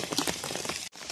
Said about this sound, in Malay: Hari pun hujan. Dia sekarang lebat lagi guys, semakin kuat lagi.